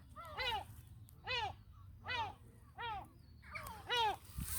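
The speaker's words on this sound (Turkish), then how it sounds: "Şurada martı bağırıyor." A seagull calls five times in a steady series of harsh, descending cries, fairly close and loud over a low background rumble.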